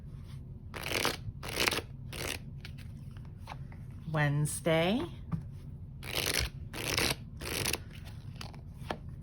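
Tarot cards are shuffled in repeated short riffling bursts at close range, each a crisp papery flutter, with a person speaking briefly in the middle of the clip.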